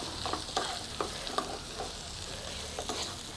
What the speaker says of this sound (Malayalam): നമ്മുടെ ചിക്കൻ പീസും ചേർത്ത് കൊടുത്ത് നല്ല പോലെ ഒന്ന് മിക്സ് ചെയ്യണം.